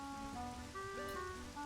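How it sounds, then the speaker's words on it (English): Steady rainfall in the video game Majora's Mask, a soft continuous wash of drops under sustained tonal game music, with no talking. "it's raining"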